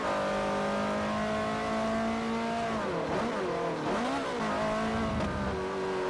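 A race car in Forza Motorsport 4 on Xbox 360 roars steadily at high revs, then dips and surges through downshifts and braking around the middle before climbing back up, loud and close.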